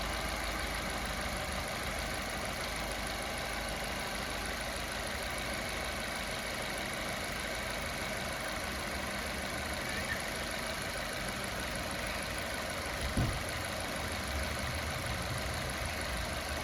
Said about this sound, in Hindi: हमने गाड़ी स्टार्ट कर ली है।